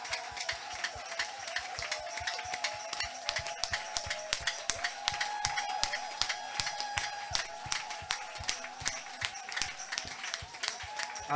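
Church congregation at a French worship and deliverance service applauding God, with steady rhythmic clapping throughout, sustained and fairly even, a faint voice underneath.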